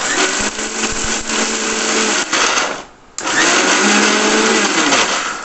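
Mixer grinder blending garlic idli podi, a loud, high motor whir running in two bursts with a short stop between them, close and without talk.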